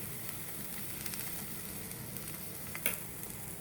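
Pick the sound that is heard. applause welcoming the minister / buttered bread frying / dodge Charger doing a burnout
buttered bread frying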